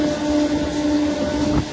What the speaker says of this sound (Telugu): ప్లాట్ఫామ్ నెంబర్ 4 పైకి అయితే విశాఖ ఎక్స్ప్రెస్ అయితే వచ్చింది.